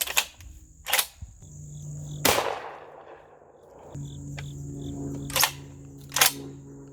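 A Rock Island Armory VRPA40 shotgun fires outdoors at a watermelon 10 yards away, giving one loud blast with a decaying tail amid several sharp mechanical clacks of the gun being handled.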